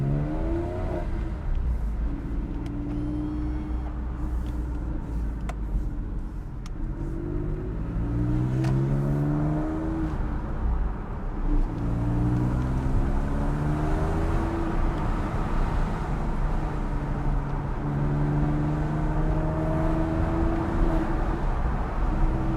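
Porsche 911 997.1 Carrera 4S flat-six engine heard from inside while driving in standard mode, a loud steady drone that climbs in pitch through several gear changes, with no voices.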